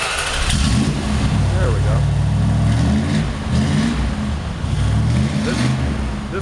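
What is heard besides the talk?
1972 Plymouth Fury 440 wagon engine starting and revving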